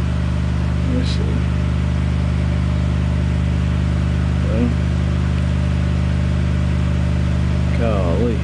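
A TB Ultra 8D2 engine roars loud and steady as it accelerates, its dense drone holding throughout while a voice speaks briefly at a few points over it.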